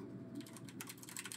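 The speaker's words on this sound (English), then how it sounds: "I got a really clicky keyboard. You guys can hear all that." Rapid typing on a very clicky computer keyboard, close up, with a fast irregular patter of sharp key clicks and no talking.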